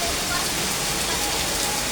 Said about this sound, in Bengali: অনেক জোরে বৃষ্টি আসছে, এত জোরে বৃষ্টি যা বলার মতো না।